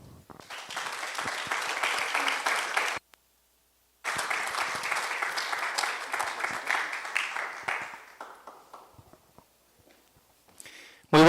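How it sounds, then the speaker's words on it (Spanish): Loud applause from an audience at a seminary's cultural week lecture, greeting a speaker. Dense clapping breaks off briefly, resumes strongly, then thins into a few scattered claps before a sudden loud sound at the end. "Lo recibimos con un fuerte aplauso"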